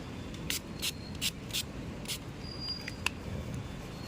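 Anti-fog and anti-rain spray liquid spritzed onto a car side mirror, several short sharp hissing bursts in irregular succession, close and fairly loud over low background noise.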